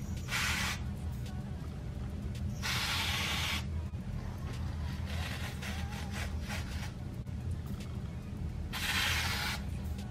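A root cover-up spray is aimed at the part of a balayage water wave wig, giving short airy hissing bursts at irregular intervals over a quiet background.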